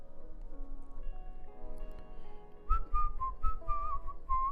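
A person whistles a short wavering tune close to the microphone, with low background noise underneath.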